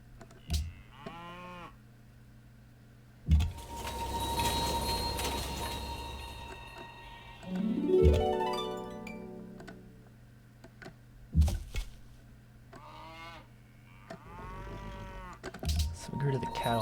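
Cattle moo repeatedly in the strategy game Civilization V, sounding as long, drawn-out lowing calls between louder game interface ticks, clicks and whooshing effects.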